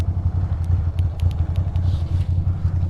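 Ducati motorcycle idling with its chain, a low pulsing engine rumble alongside light metallic ticks and clatter, close up and alone.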